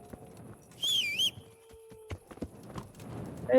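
A horse in Kingdom Come: Deliverance clip-clops with scattered hoof steps, and a shrill whistle rises briefly over the footfalls, with a few faint ambient sounds in the background.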